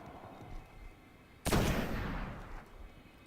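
A rocket launcher fires at a wizard in the Destiny video game, a sudden loud blast that rumbles and decays for about a second over faint background game noise.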